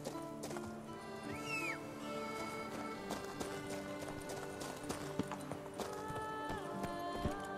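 Hooves of the horse Roach in The Witcher 3, a steady clip-clop gallop heard over layered game music, with a short neigh partway through.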